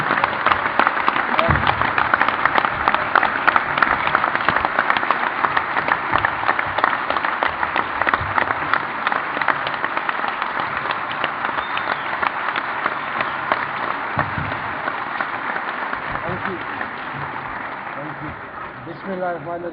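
Sustained audience applause fills a hall at the Lahore District Bar oath-taking ceremony for newly elected members, steady dense clapping that gradually thins toward the end, with a voice beginning to speak over it.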